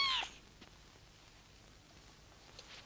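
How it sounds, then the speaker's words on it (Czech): A kitten gives one short, high meow right at the start, from somewhere in a room, apparently from under a sofa. Near-silence with faint room tone follows for the rest of the moment. "Kotě, kotě. Zaběhlo sem, ale nevím, jak."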